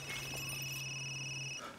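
Telephone ringing in Resident Evil Village: a steady electronic trill holds unbroken for most of its length, then cuts off abruptly near the end, with a little quiet background ambience underneath.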